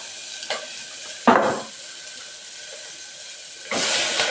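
Banana stem stir-frying with green chillies in a pan, giving a steady broadband sizzle with a few sharper bursts as the mixture is stirred and turned, close and moderately loud with no talking.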